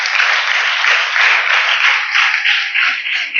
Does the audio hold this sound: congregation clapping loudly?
yes